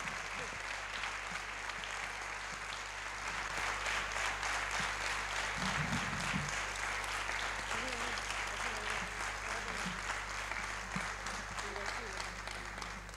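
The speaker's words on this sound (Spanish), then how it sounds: "Es el aplauso más fuerte que tenemos que dar esta noche" An audience at an evening event about dyslexia gives sustained, dense applause that holds at an even level throughout, with a faint low hum underneath and a brief voice partway through.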